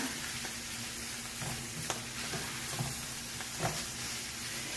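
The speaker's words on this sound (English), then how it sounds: "So I'm going to fry the whole thing with the flour for I don't know, half a minute" A potato and leek casserole mixture frying with flour in a pan gives a soft, steady sizzle and hiss, punctuated by faint stirring scrapes and taps.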